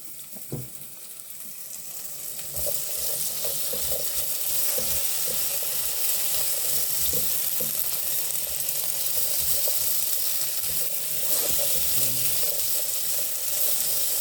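Corned beef and potatoes fry in a pan of spattering oil; the sizzle starts softer, then swells after a couple of seconds into a loud, steady crackle with scattered pops.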